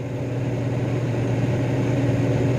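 A kitchen fan runs steadily with a constant low hum and broadband whir, unchanging throughout, fairly loud and close, with no other sounds.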